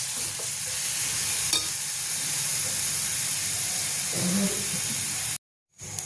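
Grated fresh coconut roasts in a pan on a gas stove, giving a steady, soft hiss and crackle with light scraping from stirring, close and continuous before a sudden brief cut to silence.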